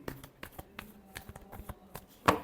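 Tarot cards being shuffled in a series of crisp riffling bursts and taps, a final loud flurry near the end, with no talking.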